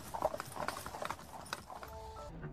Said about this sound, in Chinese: 忽闻惊呼伴着马蹄声传来